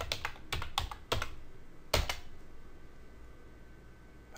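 A password is typed on a computer keyboard, several crisp close keystrokes in quick uneven bursts over the first two seconds, then quiet room tone.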